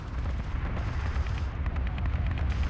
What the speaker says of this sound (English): the gunship and its wonderful cannon sound effects